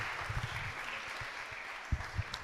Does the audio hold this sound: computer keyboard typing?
no